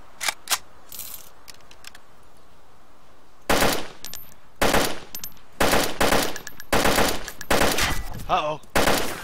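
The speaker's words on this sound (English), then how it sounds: "I'm shooting the zombies." Video game gunfire aimed at zombies: a few isolated shots, then repeated loud bursts of rapid automatic fire in close succession, with brief gaps between volleys.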